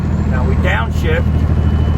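Big rig truck engine rumbling low and steady after a downshift while descending a Wyoming mountain grade, heard from inside the cab, with someone speaking briefly over the drone.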